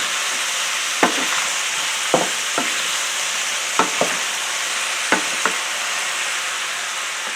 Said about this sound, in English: So I'm going to go ahead and get the onions and the squash, intermingled together there.